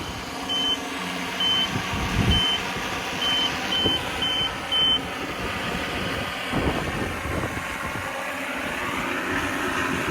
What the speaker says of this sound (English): So it's landing now on its own.